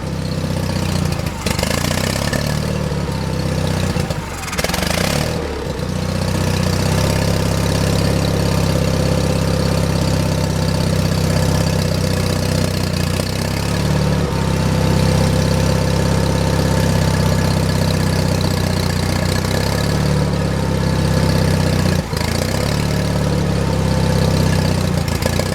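A John Deere 316 lawn tractor's gasoline engine idles steadily and loudly nearby, a continuous low mechanical drone with a brief dip partway through, running alone without talk.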